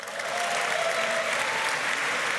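A dinner-gala audience applauds continuously to welcome Prime Minister Justin Trudeau, dense steady clapping from a large crowd holding at full strength throughout.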